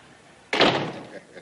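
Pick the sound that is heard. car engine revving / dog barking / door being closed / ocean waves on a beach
door being closed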